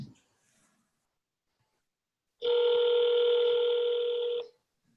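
A steady telephone dial tone sounds alone for about two seconds, loud and clear after a short quiet stretch, during a life insurance appointment-setting calling session with Tampa leads.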